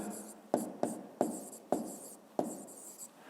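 A pen writes on paper close by in quick strokes, with several sharp taps as the tip touches down amid steady scratching, while a voice speaks softly over it.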